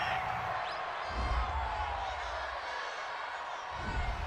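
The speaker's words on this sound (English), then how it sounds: "this crowd does not like that call." A stadium crowd at a Chicago Bears vs. Green Bay Packers football game reacts to a penalty call with a broad, distant roar. The crowd swells twice, and a commentator talks over it.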